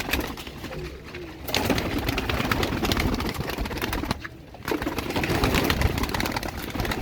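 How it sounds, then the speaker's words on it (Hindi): White Kaldumay pigeons coo steadily, close and fairly loud, with soft rustling and a faint engine hum in the background. "ये वाइट कलदुमा कबूतर हैं सबके सब"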